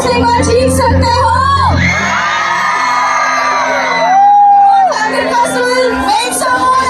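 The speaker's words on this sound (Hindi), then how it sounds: "Make some more noise on that" A festival crowd at the Falcon Festival in Umrangso shouts, whoops and cheers loudly and continuously, with high youthful yells rising and swelling in the middle, with music in the background.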